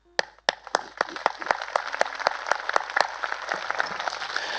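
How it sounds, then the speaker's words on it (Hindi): A church congregation clapping, starting with a few sharp claps that build into quick, loud, uneven applause from many hands. "Come on, clap for Jesus."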